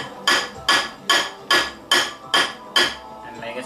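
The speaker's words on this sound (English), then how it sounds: "The more you hammer on it, the harder it's gonna get." A hammer strikes a septarian stone being shaped into a Mjolnir amulet, about seven sharp, ringing blows at a steady rhythm, close and clear.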